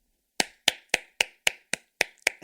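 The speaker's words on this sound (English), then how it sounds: "You're getting another applause" Eight crisp, single hand claps fall at an even, slow pace in a quiet room during a casual Thanksgiving chat, each one sharp and close with a short ring-off, and nothing else in between.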